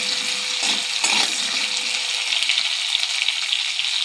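Steady sizzling and crackling of potatoes frying in a pan, continuous and fairly loud, with a few soft stirring scrapes.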